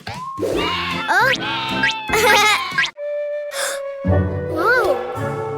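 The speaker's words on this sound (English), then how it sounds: "Orange sheep." Cartoon sheep bleating in a bright children's farm-animal show, several warbling, voiced bleats close and loud, with other cartoon vocal sounds between them.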